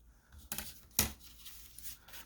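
A paper window envelope pocket being trimmed with scissors: two crisp snips about half a second apart, the second sharper and louder, with light rustling of paper around them and no talking.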